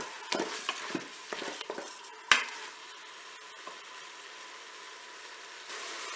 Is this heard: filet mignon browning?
yes